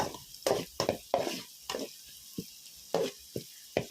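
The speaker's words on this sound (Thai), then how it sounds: "แล้วก็ผัดพริกไปเรื่อยๆนะคะ ผัดพริกให้หอมเลยค่ะ" Pounded chili and garlic are stir-fried in a pan, with a quick series of sharp spatula scrapes and sizzling bursts at an uneven rhythm, close and fairly loud between short quiet gaps.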